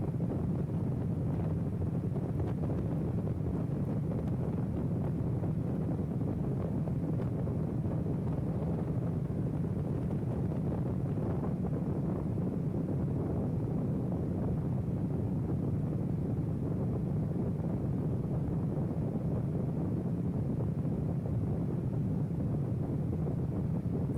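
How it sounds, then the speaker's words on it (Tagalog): Strong wind roars steadily against the microphone while riding a KYMCO Xciting VS400 scooter before dawn, a continuous low buffeting rumble with no pauses. "Ganyan kalakas ang hangin ngayon."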